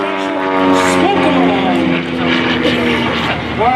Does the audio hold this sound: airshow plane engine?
yes